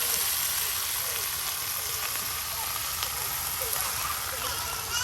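Drumstick leaves are tossed into hot oil with fried onion and garlic, producing a dense, even sizzle up close that continues steadily for several seconds, with a voice talking over it.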